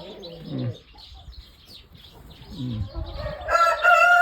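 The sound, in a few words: Jersey Giant chickens, rooster crowing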